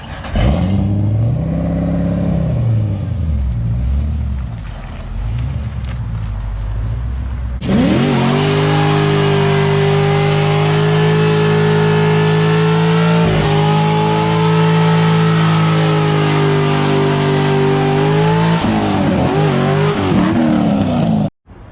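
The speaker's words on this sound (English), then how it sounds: "You wanna do a burnout?" A Corvette drift car with a chrome rose gold wrap revving, then roaring into a loud, sustained burnout with high engine revs held for long stretches, close and continuous.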